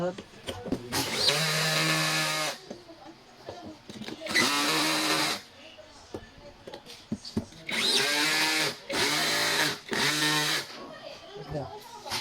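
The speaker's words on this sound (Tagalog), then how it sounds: "So we need to tighten the bolt." Power drill driving a bolt into a polyurethane ergonomic office chair during assembly, in several loud whirring bursts of one to two seconds, with quieter gaps and a voice talking in between.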